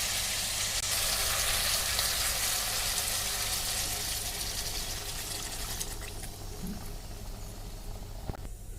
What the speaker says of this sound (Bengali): মশলাটার সাথে সবজিগুলো কষানো হয়ে গেছে এখন জল দিয়ে দেবো